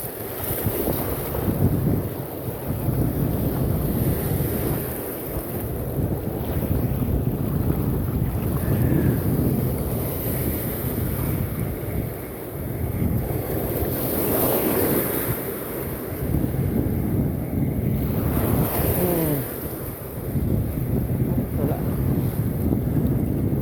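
Strong sea waves and gusting wind buffet a small fishing boat, a continuous loud roar of wind noise and surf with spray surges, no clear talk.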